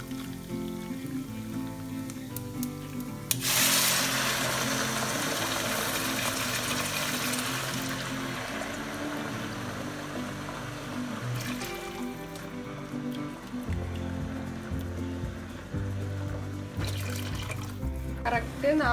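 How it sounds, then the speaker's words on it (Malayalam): Four cups of boiling water poured from a height onto two cups of rice in a pot for ghee rice, a steady splashing rush that begins suddenly and runs loud for several seconds before easing off under kitchen noise. "അപ്പൊ അതിലേക്ക് 4 കപ്പ് തിളച്ച വെള്ളം ഒഴിച്ചു കൊടുക്കാം."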